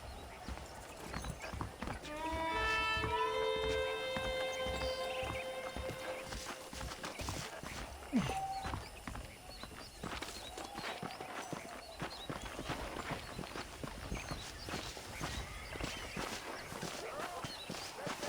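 Saddled horses in the Western video game Red Dead Redemption clip-clop along at a walk with steady hoofbeats, and a horse lets out a whinny early on over a soft outdoor ambience.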